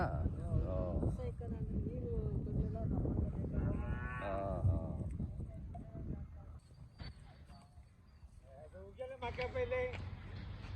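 Cows moo at the Siddaganga cattle fair, with several drawn-out low calls among a crowd and people talking nearby, plus wind buffeting the microphone.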